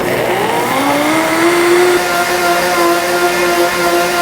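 A blender finely grinding toasted sesame seeds with clear broth: the motor whine climbs in pitch over the first seconds, then holds a loud, steady drone close by.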